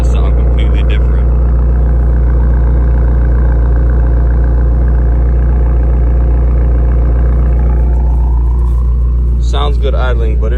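A 2020 BMW M5 Competition idles on stock downpipes with a steady, fairly quiet low rumble and a faint rise near the end, while someone talks over it.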